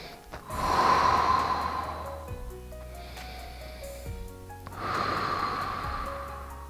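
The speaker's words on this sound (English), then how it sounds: "Breathe." Two slow, deep breaths during yoga relaxation, each a long, audible airy rush, with a soft tonal background between them.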